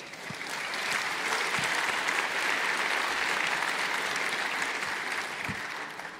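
A convention hall audience at EVE Fanfest breaks into sustained applause, a thick, steady roar of many hands clapping at an even level for several seconds.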